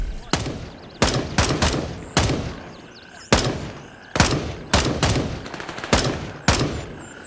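Rifle fitted with an ACOG scope firing in the shooter game Gray Zone Warfare, about a dozen sharp single shots and quick double bursts in an irregular rhythm, each with a short decaying echo, close and loud.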